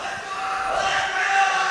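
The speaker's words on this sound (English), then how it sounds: "The Windermere crowd going wild as they get their first wins here." A school crowd at a League of Legends esports playoff match cheers loudly and steadily as Windermere Secondary School takes its first wins, a dense roar filling the room with a voice talking over it.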